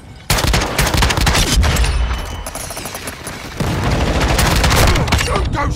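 Rapid gunfire from a Call of Duty multiplayer match on PS5, loud and dense with bursts of automatic fire and booms throughout, a brief lull in the middle before heavy shooting resumes.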